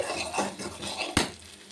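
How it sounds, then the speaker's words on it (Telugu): A spoon stirs pumpkin halwa cooking in ghee in a pan, giving a steady, close scraping and sizzling with one sharp metallic clank near the end; no one speaks. "మళ్ళీ కొద్దిగా నెయ్యి వేసి మళ్ళీ నెయ్యి వేసాను కొద్దిసేపు వాడుస్తాను చూడండి వాడుతూ ఉంది"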